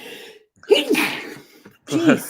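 A person sneezes twice in quick succession, close and fairly loud, with a brief exclamation between the sneezes.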